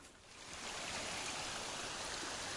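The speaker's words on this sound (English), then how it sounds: "That's the sound of running water." A mountain stream near Noland's Creek in the Smoky Mountains rushes steadily, a broad continuous wash of running water that swells in at the start and then holds even, with no voices.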